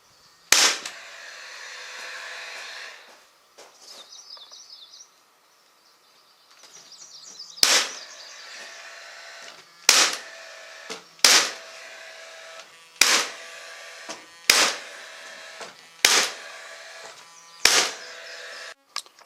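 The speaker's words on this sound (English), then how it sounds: "using the pass load with the 18 gauge 1-inch long brads" Paslode brad nailer driving 18 gauge 1-inch brads into banquette bottom trim, a series of about nine sharp, loud pneumatic snaps spaced roughly a second or two apart, with faint mechanical whirring in between.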